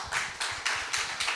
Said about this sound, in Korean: 다시 한번 혜빈이한테 박수 한번 칠게요